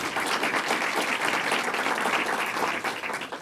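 An audience at a 2015 public policy event on campus sexual assault gives a round of applause, with loud, sustained clapping from many hands filling the room evenly from start to finish.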